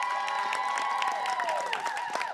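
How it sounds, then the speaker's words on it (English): A studio crowd cheers and whoops loudly for a sports show contestant, a dense wash of many voices with scattered claps throughout, close and continuous. "Cheer loudest for whoever you think is our winner."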